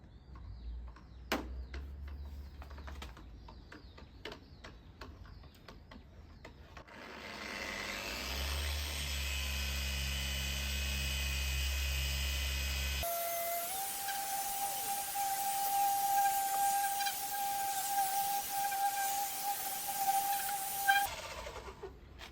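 Polishing machine buffing fresh paint on a Toyota JZX110 panel at medium-to-high speed, a steady loud whirring drone that shifts pitch partway, with a sustained tone, no talking.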